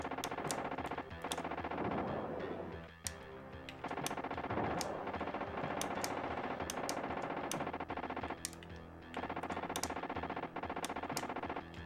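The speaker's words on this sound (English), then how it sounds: "Watch your gun power, because when it gets low, it starts shooting like tat, tat, tat, tat, tat, tat" Rapid gunfire from the T2 arcade game on SNES, dense machine-gun bursts rattling almost continuously with brief gaps, loud and without talk.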